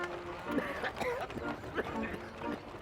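Horse hooves clip-clop in a short uneven patter, close and moderately loud, with voices talking over them in a cartoon fairytale scene.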